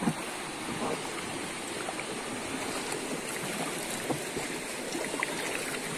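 A river boat moving along a river, with steady rushing water and hull wash heard throughout at a moderate, even level and no talking.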